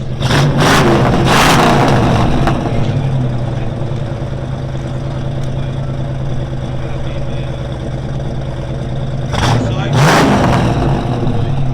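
A loud, deep 351 V8 in a 1969 Ford Mustang Mach 1 with Flowmaster Super 10 mufflers rumbles close by, with sharp revs at the start and again near the end, idling thickly in between.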